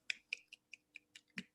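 Sparse finger snaps from an open mic audience after a spoken-word performance, about eight crisp, close snaps in an uneven rhythm against near silence.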